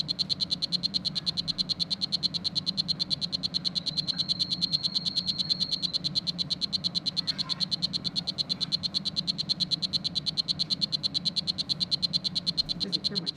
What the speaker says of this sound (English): they still have my favorite call of most of the dart frogs kept in